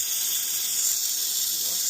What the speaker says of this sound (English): So we're blasting steam through it and it's going through all the vents.